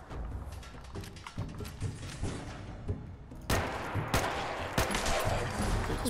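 Rapid bursts of gunfire in the game Fallout 4, with a modded survival setup, crackle in dense volleys and grow louder and heavier partway through.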